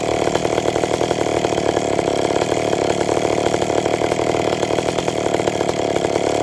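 Ported McCulloch Pro Mac 850 chainsaw idles steadily at -35°C, a loud, close, continuous buzzing engine drone with a fast even pulse and no talking.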